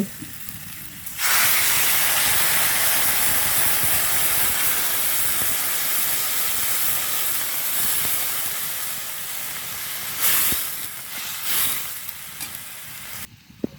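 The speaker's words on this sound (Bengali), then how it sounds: "এবার হচ্ছে এর ভিতর দিয়ে দেব জল" Water hits a hot pan in a fish curry with tomato and potato, letting out a loud, sustained sizzling hiss that slowly eases before flaring again with stirring near the end.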